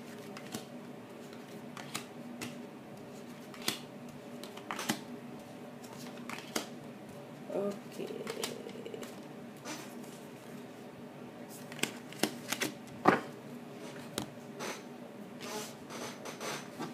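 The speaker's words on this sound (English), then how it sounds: "I will cut the deck and I begin pulling your cards" A tarot card deck is handled, shuffled and cut in a quiet room, giving soft irregular riffles, slaps and rubs with a few sharper taps, close and fairly faint.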